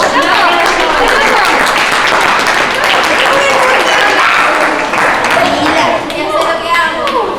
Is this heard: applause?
yes